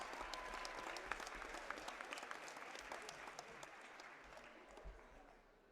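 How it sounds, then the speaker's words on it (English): Spectators at a girls' wrestling invitational finals in a gym give a steady round of clapping, moderately distant and even, fading toward the end with faint crowd murmur underneath. "have a big round of applause for the effort that they put in today, yesterday and today for us"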